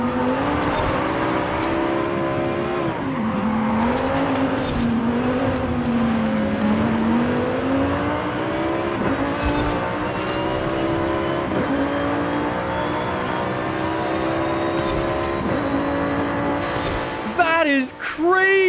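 Lamborghini Huracan Evo engine in the racing game Forza Horizon 5: a loud, sustained droning engine note rising and falling with throttle, ending in a sharp upward rev and tire noise.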